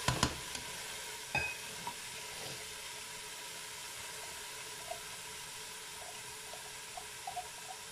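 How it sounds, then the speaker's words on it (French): Chopped ingredients, including coarsely chopped red pepper, frying with chorizo in a Cookeo multicooker, a faint soft sizzle with a few stirring clatters near the start and scattered light taps, quiet and without speech. "Je vais les mettre à revenir avec le chorizo."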